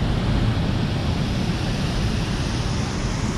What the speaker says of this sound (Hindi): इधर पानी जा रहा है, इधर जा रहा पानी